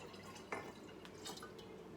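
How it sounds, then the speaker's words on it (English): Raspberry, strawberry and blueberry juice is poured into kombucha, giving soft dripping and trickling liquid sounds, faint and close. "This is a raspberry, strawberry, blueberry juice, and I'm just going to pour that"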